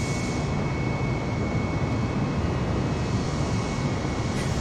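An Airbus A320neo rolls down the runway for takeoff in Microsoft Flight Simulator, a steady, loud broadband engine roar heard from inside with no pauses.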